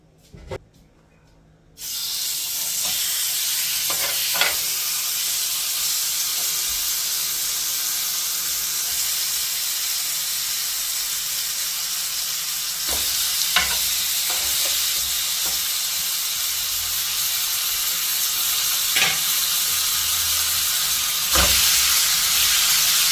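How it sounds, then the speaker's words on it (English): Pork chops hit a hot pan and sear with a sudden loud hiss that then settles into a steady close sizzle, broken by a few sharp clicks and clatters as the cooking goes on. "I'm gonna go ahead now and add my pork chops. I'm gonna sear on both sides."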